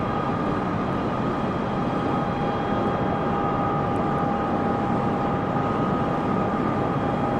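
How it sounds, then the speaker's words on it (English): A steady, continuous drone of a very large aircraft's engines throttled back while flying over the Las Vegas Strip, with a broad roar and faint sustained tonal hum and no voices. "We'll turn the engines down a bit, throttle them down, and we're going to fly up the Las Vegas Strip again."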